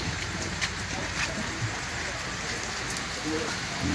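Rain falls steadily at sea around a small fishing spot. A soft, continuous patter of drops on surfaces comes with a few louder splashes.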